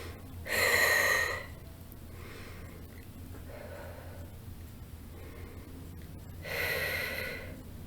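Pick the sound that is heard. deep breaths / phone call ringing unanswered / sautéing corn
deep breaths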